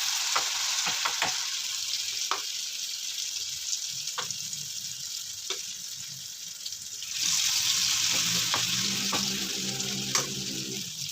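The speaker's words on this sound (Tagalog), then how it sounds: "nagprito ako ng galunggong" Galunggong fish fries in oil with a constant hissing sizzle, punctuated by sharp spatters and utensil taps, growing louder and fuller partway through.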